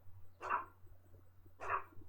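A dog barks twice in Back to the Future: The Game, two evenly spaced, mid-pitched barks about a second apart, clear and alone over a faint low hum.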